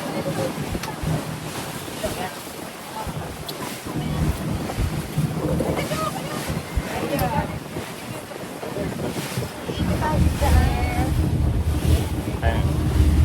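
Waves slosh and splash steadily against a boat hull on Manila Bay, with broadband water wash and gusty wind noise throughout, growing louder toward the end.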